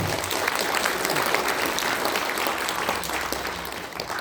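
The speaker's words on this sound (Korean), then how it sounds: "박수 부탁드립니다" Sustained applause fills a hall as a guest is welcomed at a political party launch event, a steady dense clatter of many hands holding at an even level throughout.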